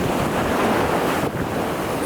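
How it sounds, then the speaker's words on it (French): Ocean waves crash and churn continuously with a loud, rushing roar on the coast of Senegal, wind buffeting the microphone throughout, no voices. "C'est des vagues de malades."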